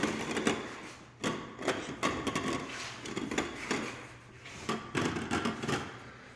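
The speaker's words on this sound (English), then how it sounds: "All the kitchen plantation shutters are functioning." Wooden kitchen plantation shutters are opened and closed repeatedly, giving a series of close, sharp clacks and rubbing wooden slides with brief pauses between them, and no talking.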